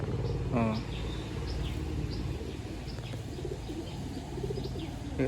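Pigeons in a loft near Dhamua station coo softly in short, repeated calls over a constant background hum, with faint chirps scattered through.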